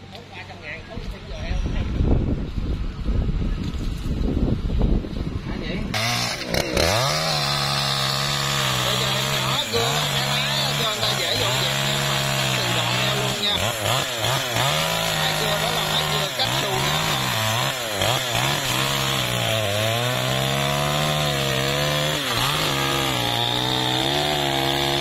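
A chainsaw roars continuously, its pitch rising and dipping as it bites into a coconut palm trunk in An Giang, Vietnam, with people talking over the noise.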